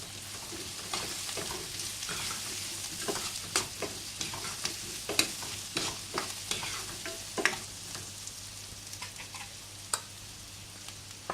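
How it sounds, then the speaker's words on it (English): Onions and red and green capsicum pieces are stir-fried in a pan, a continuous close sizzle broken by frequent sharp scraping and tossing clicks of a utensil, with no talking. "after the onions are nicely tossed in the pan, we are going to add capsicums"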